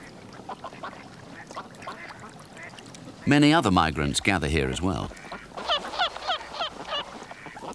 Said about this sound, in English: Cutting through the drowsy quacking of the ducks comes the abrupt call of a phalarope.